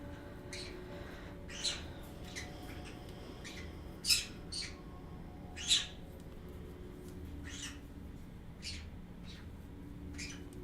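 Birds squawk in harsh, scattered bursts over a steady background hum, a few calls standing out louder than the rest.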